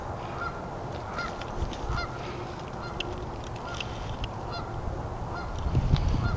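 A goose on or beside a river honks repeatedly in the distance, short calls scattered over a steady outdoor rumble of moving water or wind.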